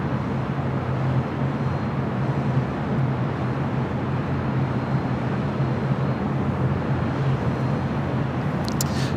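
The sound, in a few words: airplane taxiing at LAX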